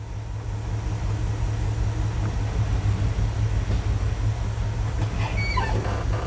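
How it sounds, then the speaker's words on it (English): A 1988 Dodge D100 shortbed pickup truck engine runs while the truck moves, a steady low rumble with constant road and drivetrain noise throughout and no talk. "Let's fire it up and see if it'll move."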